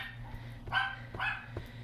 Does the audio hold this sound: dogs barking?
yes